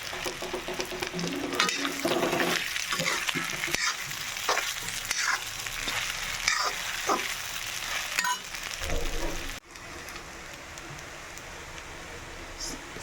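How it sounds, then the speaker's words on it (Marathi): Peanuts frying in a pan for potato sabudana khichdi, a soft steady sizzle with irregular stirring scrapes and rattles, moderately quiet, before the sound drops lower near the end. "हे शेंगदाणे जे आहे ते ॲड करते। याला पण थोडं फ्राय करून घ्यायचं"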